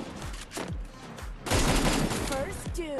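Rapid bursts of video game gunfire crackle in quick fusillades, moderately loud, mixed with game effects while a player talks over the shooting.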